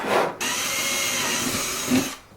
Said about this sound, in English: So we just drilled the pilot hole, then we gotta switch the bit to the Phillips screwdriver bit.